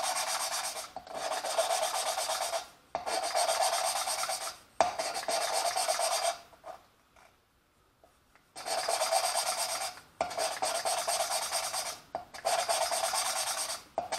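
Valves are lapped into a Holden 253 4.2L cylinder head, giving repeated close, gritty rubbing strokes in rhythmic bursts, with a brief quiet pause in the middle before the grinding resumes.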